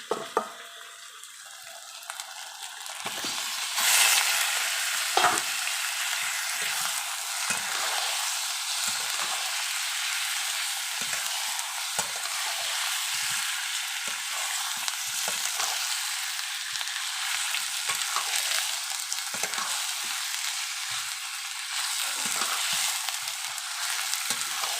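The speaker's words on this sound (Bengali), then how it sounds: "মশলা কষানো আমার হয়েই গেছে, এখন আমি মাংসটা ঢেলে দেবো।" Meat tipped into spiced masala in a pan gives a steady, loud sizzle and frying hiss that runs throughout, with occasional scrapes and clatter as it is stirred and no talking.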